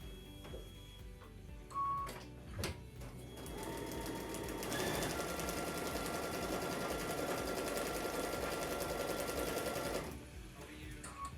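A sewing machine stitches a quilted flower-through-lattice panel in one sustained, steady whir of about six seconds, preceded by a few clicks and handling knocks, with a beep near the end.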